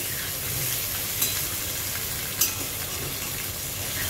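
Potatoes fry in a pan on the stove, giving a steady, close sizzle with two brief sharp ticks partway through and no talking.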